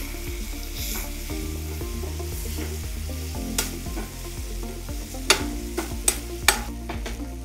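Tempering for pulihora sizzles in a hot pan while a spoon stirs it, scraping rhythmically against the metal, with several sharp clinks near the end and no voices.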